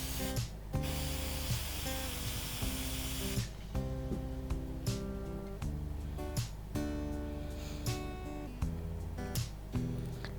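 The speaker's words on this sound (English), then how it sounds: "Now I spray it in this cup." Several hissing bursts of waterbased spray paint into a cup, some long and some short, repeat over a continuous backing of music.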